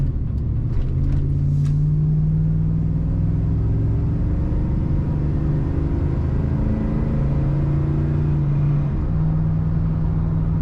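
A 1995 GMC Sierra 1500 SLE regular-cab pickup with a column-shift automatic drives on the road, its engine a steady, loud low rumble with gentle rises in pitch as it shifts, continuous throughout with no talking.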